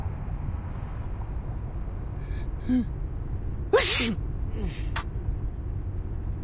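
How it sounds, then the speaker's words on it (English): A single sharp sneeze in a video game, Reverse: 1999, with a quick intake of breath before it, over a low rumbling background, with brief voice sounds around it. "That's your 9th sneeze since we got here."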